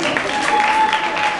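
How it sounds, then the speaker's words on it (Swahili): Applause from a packed church congregation, a dense steady wash of clapping that fills the space, with a faint sustained tone running through it. "tupe Yesu ndani ya makofi"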